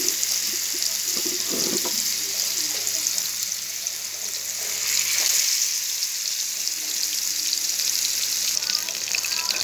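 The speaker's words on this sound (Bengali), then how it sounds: "এবার আমি ম্যারিনেট করা চিকেনটাকে দিয়ে ভেজে নেব।" Marinated chicken for chicken tandoori sizzles in hot oil and ghee, a steady close hiss of frying with a few soft clatters.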